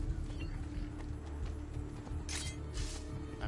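A horse in Assassin's Creed 2 clip-clops along under a continuous game background, with rhythmic hoofbeats and a few brighter snorting or whinnying bursts near the end.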